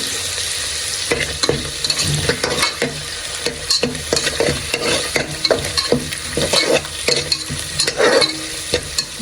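Egg for a palak egg biryani fries in a pan with a loud, close sizzle, broken by repeated scraping and stirring strokes of a spatula.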